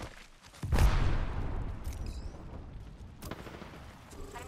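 A grenade explosion in a video game shooter, a single sudden loud boom with a rumbling tail, followed by a fainter second blast and scattered background game noise.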